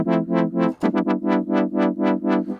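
Massive X synth wobble chord, loud and alone, pulsing in steady rhythmic swells whose wobble briefly speeds up into quicker stutters after each new note strike before settling back to the slower pulse.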